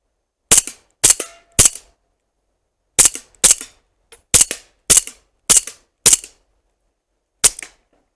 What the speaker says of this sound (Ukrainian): буду стріляти однією рукою, в принципі, в якомусь там більш-менш швидкому темпі